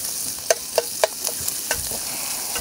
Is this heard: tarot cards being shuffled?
no